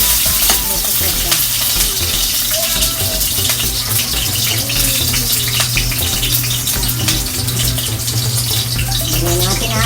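Onions hit hot cooking oil in a home kitchen pan, giving a steady, loud sizzle and frying hiss with occasional stirring scrapes throughout.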